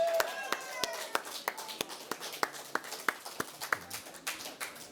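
Scattered, uneven hand claps ring out at a moderate distance, a loose burst of applause for event crew at Sea of Thieves Fest 2026, with sharp individual smacks over a faint murmur.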